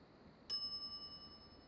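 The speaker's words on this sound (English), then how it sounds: "But if we go back in here and ring the bell," A single bell strike in The Secret of Monkey Island video game, a bright ding with a sharp onset that rings on and fades slowly over more than a second, heard alone against quiet background.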